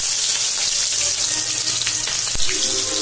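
Chopped onion, bay leaf and whole spices fry in hot oil with a dense, steady sizzle close by, broken by a few scraping stirs near the end.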